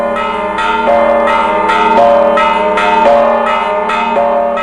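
Church bells at dawn in Bethlehem, loud, clear peals struck in a steady repeating rhythm, each strike ringing into a long sustained tone that overlaps the next.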